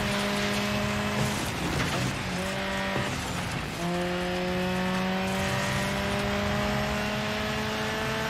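A race car engine in Dirt 5, droning steadily at high revs with gear changes and pitch climbs, loud and continuous, with faint mechanical rattles underneath.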